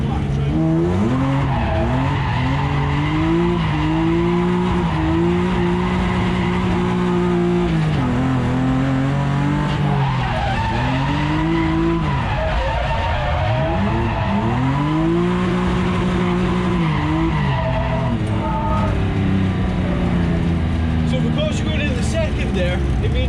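A BMW E36 M3 slides sideways in a drift, its engine revving and bogging in loud, wavering sweeps while the tires squeal almost continuously, with a voice talking over the car from inside.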